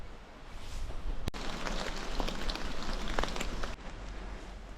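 Steady rain patters down under a tree canopy outdoors, a dense continuous hiss of drops that is fairly faint and even, with no voices.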